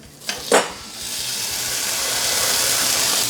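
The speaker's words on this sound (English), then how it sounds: "we want to steam it, so we're going to put a couple pieces of ice under there" Ice hisses into steam under a metal dome on a hot griddle, melting cheese over a hot dog; two quick clanks open it, then a broad, even steam hiss swells and holds loud to the end.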